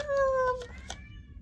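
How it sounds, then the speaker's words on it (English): A single drawn-out meow from a nearby cat, falling in pitch, with faint background noise after. "My cat is, you hear my cat?"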